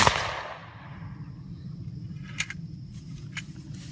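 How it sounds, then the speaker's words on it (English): A black powder double-barrel shotgun fires its second barrel outdoors at night, a single sharp blast at the very start that decays into a long rumbling tail, with a few faint clicks afterward. "Second fire from the double barrel."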